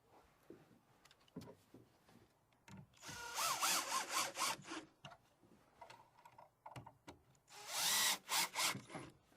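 Screws being driven into wood while building a rustic X bench, with bursts of power-tool whirring interspersed with handling knocks and scrapes, fairly close and without speech.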